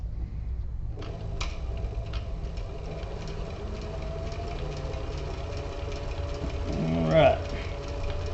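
A sewing machine stitches the layered leather of a tablet case with a notepad and kickstand, giving a steady motor hum with a faint mechanical ticking, and a person speaks briefly partway through.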